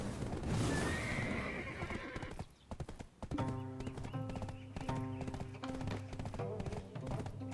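Hoofbeats clip-clop steadily as a horse in a video game trots, with loud whinnies and neighs early on over a busy game soundscape and music.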